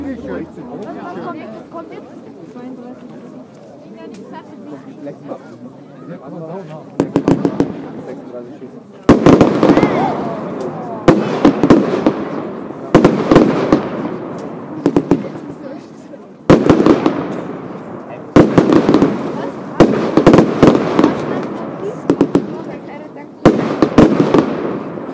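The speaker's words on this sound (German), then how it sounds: "Mixed Batterie in Salven geschossen, die Black Mamba" A Weco Black Mamba mixed firework battery fires in salvos, loud bursts of crackling, popping shots clustered in rapid volleys with short pauses between, over a crowd chattering in the background.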